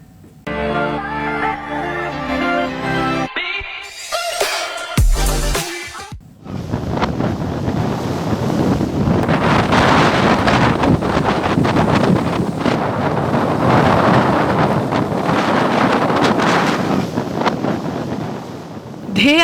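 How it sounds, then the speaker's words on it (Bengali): Gusty wind from Cyclone Remal roars over a rough sea on the Patuakhali coast, a loud, continuous buffeting rush with crashing surf, after a short burst of music. "দমকা বাতাসে উত্তাল হয়ে উঠেছে সমুদ্র আর আছড়ে পড়ছে ঢেউ"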